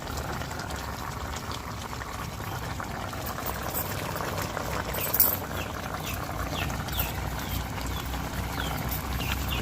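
Fish curry with teasel gourd simmering in a pot, giving a steady soft bubbling and hiss that stays even throughout, with one brief louder pop partway through.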